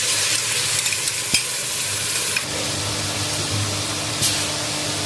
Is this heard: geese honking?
no